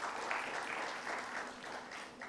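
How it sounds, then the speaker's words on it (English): An audience claps for a national faculty at a medical conference session, a dense continuous round of applause, moderately loud and steady throughout. "a huge round of applause for our national faculty"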